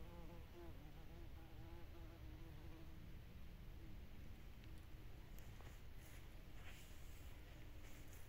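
Bees buzz near their hive in an ornamental garden in late summer, a continuous layered drone of several insects with wavering pitch as individuals pass close, then a denser, busier hum toward the end.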